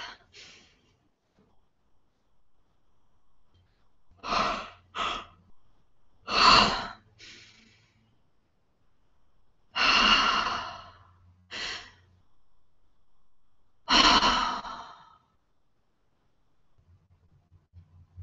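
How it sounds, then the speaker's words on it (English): During a guided exercise, a series of deep breaths and sighs come in separate audible puffs with silent gaps between them, close to the microphone. "Taking a breath."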